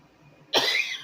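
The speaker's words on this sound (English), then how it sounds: "I wasn't coughing before I started filming" A single sharp cough bursts out of a quiet room, with a short second catch of the throat right after it. It is close and fairly loud against the faint background.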